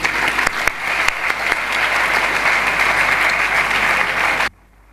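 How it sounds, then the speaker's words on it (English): Loud, sustained applause from a convention audience honoring a speaker, dense steady clapping filling the room for about four and a half seconds before cutting off abruptly. "Let's hear a big round of applause for Sir Benninger"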